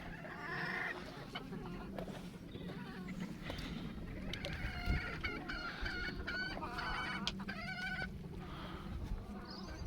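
Backyard chickens in a coop cluck and squawk in busy overlapping calls, close and steady throughout, with occasional louder outbursts and no speech over them.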